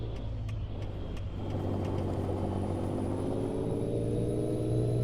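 A truck engine in Euro Truck Simulator 2 taking a corner, a steady low mid-range drone that builds slightly in level, with a few faint clicks early on and no talking.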